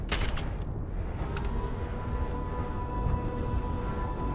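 Turret gunfire in the video game Starfield, a dense, continuous barrage of booming shots with a few sharper cracks near the start, loud and steady throughout with no talk.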